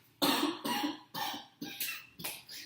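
A person coughs about six times in a row, sharp, close bursts spaced roughly half a second apart, with quiet gaps between them.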